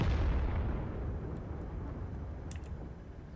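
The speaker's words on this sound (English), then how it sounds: "Another shot on target, but it didn't penetrate, so it bounced" A tank cannon round ricochets off armour in World of Tanks with a Stug IV firing: one loud boom opening the clip, decaying into a long rumbling tail, with a faint metallic ping later.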